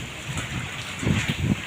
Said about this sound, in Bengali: আবার খুব জোরে, আবার খুবই আস্তে বৃষ্টি।